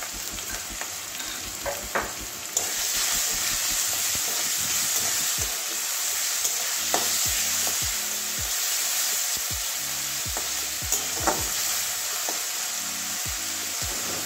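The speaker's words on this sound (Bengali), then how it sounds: "ভালো করে একটু লাল লাল করে পেঁয়াজটা ভাজতে হবে" Onions frying in oil in a pan for a soybean curry, a steady loud sizzle with repeated scraping and stirring knocks from a spatula, close up and without talk.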